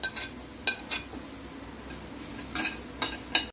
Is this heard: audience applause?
no